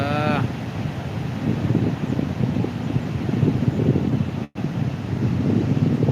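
Steady, heavy rushing of the flooded Manjara River roars close by, broad and continuous with a windy, buffeting edge, and no talking.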